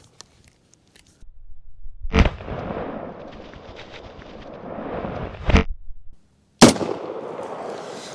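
Sharp, loud rifle shots from an Auto Ordnance M1A1 Paratrooper .30 Carbine at an outdoor watermelon rigged with firecrackers, three cracks spaced a few seconds apart, each followed by a rumbling echo and ringing tail.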